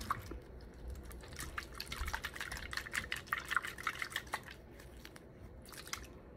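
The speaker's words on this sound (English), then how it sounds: "make sure you shake it so you could mix it, you know, so the powder could dissolve" Liquid sloshes and rattles as a bottle of pediatric suspension powder and water is shaken to dissolve it, a quick, uneven run of wet knocks and splashes lasting several seconds, close and fairly quiet.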